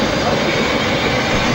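The steam locomotive Bellerophon arrives at the railway yard at Haworth with a steady, loud, broad rumble of engine and rolling stock, heard close and unbroken without talk.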